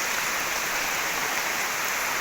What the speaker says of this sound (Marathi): तर मस्त तसा मान्सूनचा पाऊस पडत आहे